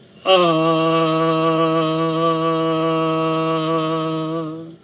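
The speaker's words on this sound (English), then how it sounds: "just inhale and create the sound of ah" A single voice sustains a steady, resonant "ah" chant for several seconds, rich in harmonics, loud and close, fading slightly at the end.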